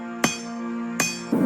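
Hammer blows on metal over a small anvil while a sword is forged by hand: two sharp, ringing strikes about three-quarters of a second apart, each leaving a sustained metallic tone, then the start of a third impact.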